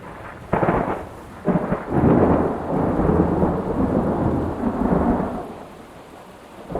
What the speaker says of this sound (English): the wind started howling, and the clouds opened up and poured down on them